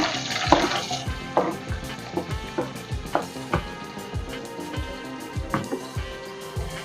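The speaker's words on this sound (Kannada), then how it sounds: "ಈರುಳ್ಳಿ ಸ್ವಲ್ಪ ಚೆನ್ನಾಗಿ ಫ್ರೈ ಆಗಲಿ" Sliced onion fries in hot oil with cloves, cinnamon and cardamom for coriander rice bath, a loud close sizzle broken by regular scraping stir strokes against the pan.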